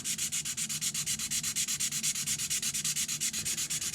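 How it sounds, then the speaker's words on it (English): Rapid, rhythmic rasping of a sanding pad rubbing back and forth, notching wood for hinges, steady and close, with no voices. "I tilt it, and then I work the sanding pad back down"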